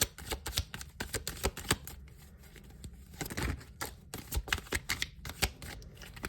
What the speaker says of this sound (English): next we're going to be grabbing 2 tarot cards for each deck